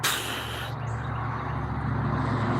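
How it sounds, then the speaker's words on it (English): A large 18-wheeler truck rumbles past nearby with a steady low engine drone and hiss, loud throughout with no talking. "And then here comes an 18-wheeler to do just"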